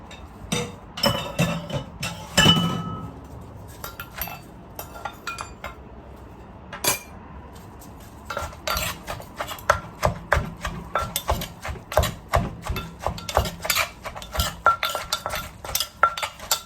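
A pestle clacks steadily in a mortar, pounding mango for a Thai green mango salad, made here from fruit that is starting to ripen. The strikes come close and sharp in irregular runs, grow denser near the end, and stand alone without talk.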